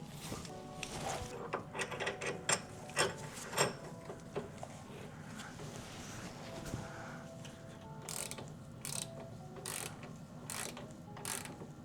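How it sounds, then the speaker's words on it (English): An ordinary wrench cranks a clamp tool onto a BMW E36 part, producing repeated ratcheting clicks in bursts with short pauses. The sound is close and fairly quiet, with no talking. "then you take a normal wrench and you just crank her on"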